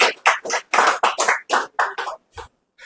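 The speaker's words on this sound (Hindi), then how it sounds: "तालियां कम बज रही है" A few people in a mobile repair training class clap in a short, uneven burst of separate claps, close by, ending in one dull thump.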